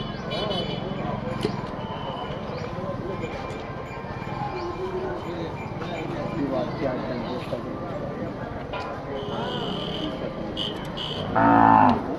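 Cattle low repeatedly amid the steady din of a crowded Siddaganga Mutt jathara cattle fair in Tumakuru, Karnataka, with voices chattering throughout and a louder moo near the end.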